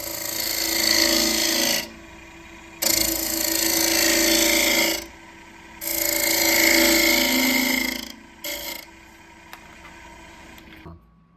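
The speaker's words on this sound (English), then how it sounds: "I'm purposely taking very light cuts here because I don't want to knock this thing off the chuck" A wood lathe takes light cuts on a crush grind peppermill blank, several long rasping passes with short pauses between them, close and loud, the motor humming underneath.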